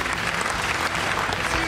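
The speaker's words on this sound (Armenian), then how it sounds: "ծափարում ենք Էլսին" Dense applause from an audience in a room, a steady wash of many hands clapping at once with a faint crowd murmur under it, sustained and loud throughout.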